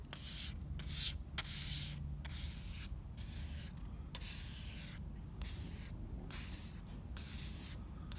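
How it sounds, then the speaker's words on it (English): Cardboard rubbing primer into the wooden body of a DIY guitar, giving steady scratchy rubbing strokes in a continuous rhythm, with brief pauses between passes and no talking. "I just want to work the primer into the wood."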